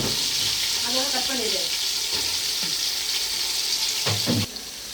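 Onions fry and sizzle in a pan while being sautéed for biryani, a steady hiss with stirring scrapes and a few clinks, continuing evenly before dropping off near the end.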